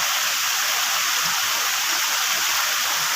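Tagkuriring Waterfalls and its river pour in a steady, loud, broadband rush of falling and flowing water, continuous and close, with no voices over it.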